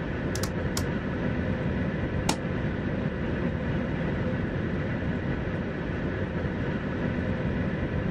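A locomotive in the Train Simulator video game runs on the Kings Cross to Stevenage route, a steady loud rumble of train noise broken by a few brief high clicks.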